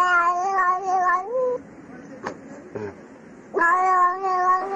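A cat gives long, drawn-out, speech-like yowling meows, two loud close calls separated by a pause with faint small noises in between.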